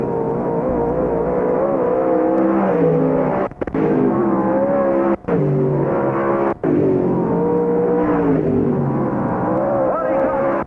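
Race cars on the dirt track at Knox County Raceway during the Barb Heinz Memorial feature, a loud continuous engine roar with brief dropouts, under a track announcer's commentary.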